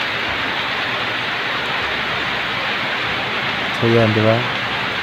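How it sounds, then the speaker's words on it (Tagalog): Heavy rain falls steadily as a dense, even hiss that fills the whole clip, with a voice briefly speaking over it near the end. "Malakas talaga na ulan."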